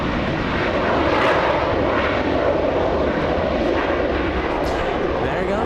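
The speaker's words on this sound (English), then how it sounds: "we're gonna go for American 352 flying in from Charlotte. The one touching down right now" An American Airlines plane arriving from Charlotte touches down at LAX, a loud continuous engine roar close by that stays strong throughout, with someone talking over it.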